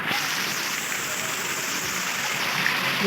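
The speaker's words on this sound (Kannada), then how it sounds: "ಇಲ್ಲಿ ಮ್ಯಾಲ ಕೆನಾಲ್ ಐತೆ. ಇಲ್ಲೇ ನೀರು ಬೋದೈತೆ." A constant rushing wash of water flowing down from a canal, steady and fairly loud, with no pauses throughout.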